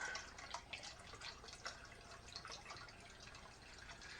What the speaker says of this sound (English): I'm going to add some more water to it.